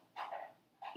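A dog indoors makes two quiet, brief vocal sounds, a short whine-like bark followed by another after a pause, faint and somewhat distant.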